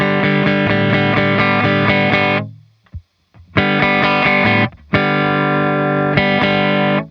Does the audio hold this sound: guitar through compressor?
yes